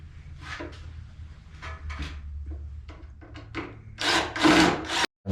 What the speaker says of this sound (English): So I'll lightly sand off the marks